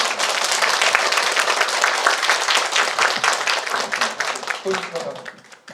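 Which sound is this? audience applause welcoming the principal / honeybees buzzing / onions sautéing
audience applause welcoming the principal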